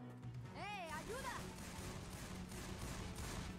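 Rapid gunfire from several weapons in Left 4 Dead 2 on expert difficulty, played as a dense, continuous crackle of shots under a player's excited voice near the start.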